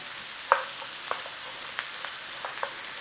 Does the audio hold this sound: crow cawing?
no